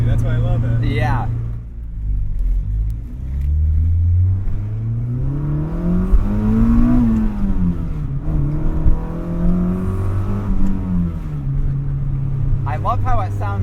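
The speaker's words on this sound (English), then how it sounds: "I love how it sounds in here too, with the exhaust note when you're on throttle." Inside a Mazda MX-5 Miata with a swapped Honda K24 engine, the engine and exhaust rise and fall through several throttle pulls, a loud, droning note that climbs steadily in pitch, with brief speech at the start and end.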